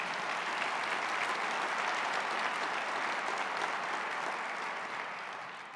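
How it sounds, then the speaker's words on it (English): Sustained applause from a large audience at Atlanta's 2012 State of the City Address, steady and dense throughout before tapering slightly at the end. "Invest Atlanta, y'all can clap for that."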